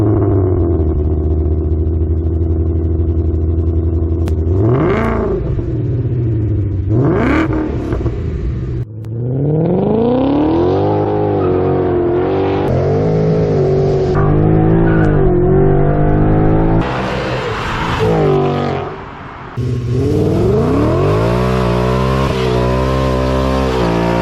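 A 2020 Ford Mustang Shelby GT500 muscle car drives hard, its loud engine climbing through rising revs and gear changes over and over, with brief tire squeals and a roaring pass near the close, with no talk.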